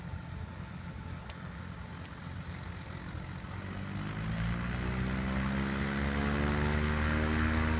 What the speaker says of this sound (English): You might as well take the amphibious plane out.